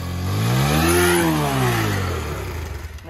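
A car engine revs up and eases back down during a driving lesson, rising to a loud, close peak and then settling into an uneven, throbbing idle.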